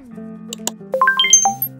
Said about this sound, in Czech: Co to zvoní? Přišla ti zpráva.